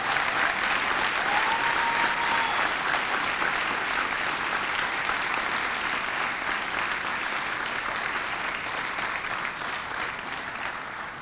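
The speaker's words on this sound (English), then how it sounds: "Please join me in a final round of applause" A large audience at a salute-to-service awards ceremony claps in sustained, dense applause that fades slightly toward the end.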